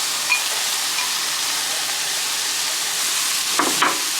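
Continuous loud hissing sizzle from a pan as stuffing is mixed into pork for a strata, with a couple of brief scraping stir sounds near the end; no one speaks.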